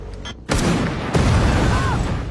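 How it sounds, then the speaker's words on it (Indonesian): Gunfire flashing from a lighthouse in an action film: a sudden loud burst at about half a second, then another heavy blast, followed by sustained dense, rumbling battle noise with no clear speech. "Di sana pasukan Anthony yang melihat kilatan tembakan dari mercusuar lalu membagi pasukan menjadi 2 tim."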